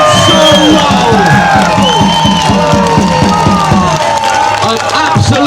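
A large crowd at a street march claps and cheers, with loud shouts and whoops carried over a rhythmic chant and amplified voices.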